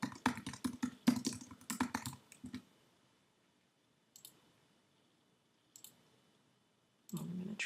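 A computer keyboard is typed on close up in a rapid burst of clicky keystrokes lasting about two seconds. After that come a few isolated key taps with quiet gaps between them, and a final cluster of clicks at the end.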